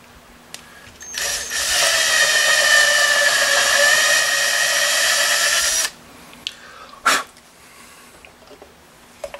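A power drill runs steadily for about four seconds, loud and close, widening holes to an eighth of an inch in the body of a Chinese copy of a Rickenbacker 4003 bass guitar, then stops, followed by a brief sharp knock.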